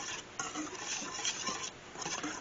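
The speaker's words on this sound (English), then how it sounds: "We'll do a little whisk, a whisk, a whisk." Ginger snap batter with cloves being whisked in a bowl up close, a steady, continuous scraping and swishing with small rhythmic surges, no talking.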